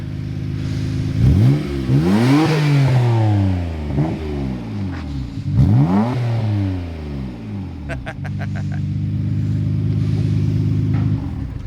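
A Nissan R32 Skyline GT-R with a newly installed exhaust idles close by, then blips its throttle in a couple of rising and falling revs before settling back to a deep, steady burble.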